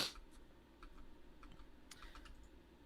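Faint computer keyboard typing heard as scattered soft clicks, distant and quiet over a steady background hum, with no talk.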